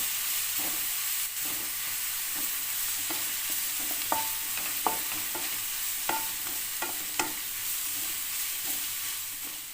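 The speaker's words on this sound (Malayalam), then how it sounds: "ഇനി നമുക്കിതൊന്ന് വഴറ്റിയെടുക്കാം." Onions sauté in a pan with salt and turmeric for an egg roast, giving a continuous close sizzle with scattered spoon scrapes and light clinks as they are stirred, and no talking.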